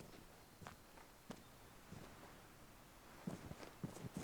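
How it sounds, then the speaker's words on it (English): Footsteps of another player in the video game Vigor, a few soft, uneven steps stepping nearby on a quiet, near-silent ambient background, with slightly louder steps toward the end. "Definite footsteps."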